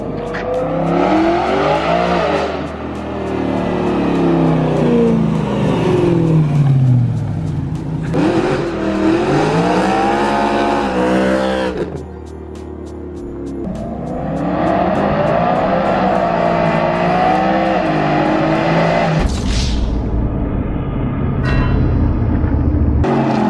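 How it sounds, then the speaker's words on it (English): A BMW M3 engine, heard from outside the car, revs in long rising and falling sweeps, loud and close, with several surges and a brief dip partway through, and a few voices around it. "Bro, I never get to hear my car from the outside."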